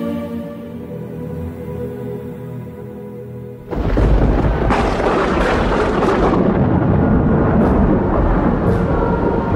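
A deep, sustained rumble of thunder rolls in as a sound effect for a gothic fantasy dramatized audiobook, starting low and then swelling abruptly into a loud, dense roar with sharp crackling bursts that fills the rest of the stretch.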